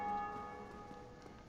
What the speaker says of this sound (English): And so what we do now is we ring the bell.